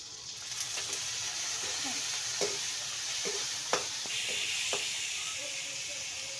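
Chilli chicken with soy sauce sautéed in a pan: a steady hot sizzle with scattered soft stirring scrapes and light taps, close and fairly even throughout, with no clear talk.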